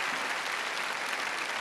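A church congregation at a Catholic worship service gives a sustained, even round of applause for Jesus, a thick wash of many hands clapping at moderate distance.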